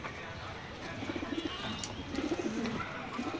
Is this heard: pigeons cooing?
yes